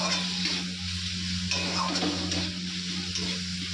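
A ground paste of coriander, cumin, dried chili, onion, ginger and garlic fries in a pan for egg curry, giving a constant close sizzle with soft stirring scrapes under a low steady hum.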